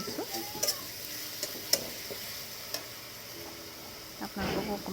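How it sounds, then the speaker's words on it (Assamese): Chicken frying with ginger-garlic paste and spices in a pan, a soft steady sizzle punctuated by sharp clicks and utensil taps, with brief voices at moments. "চিকেনকেইটা ভাজি লৈছোঁ প্ৰথমে"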